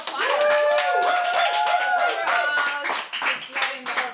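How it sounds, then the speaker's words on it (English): Studio audience clapping at the season finale of a TV show, brisk hand claps that thin out toward the end, with voices and chatter running through and over them. "How about a round of applause?"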